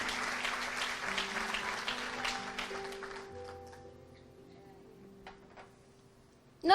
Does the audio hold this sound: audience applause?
yes